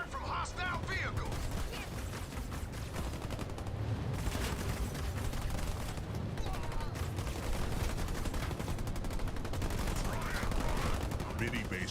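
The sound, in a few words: gunfire at marines from hostile vehicle in Halo Wars 2 video game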